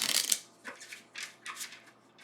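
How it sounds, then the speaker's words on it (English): Tarot cards shuffled by hand in a few quick riffling bursts, crisp and close, with brief pauses between them and no talking. "let me just do a couple more shuffles here"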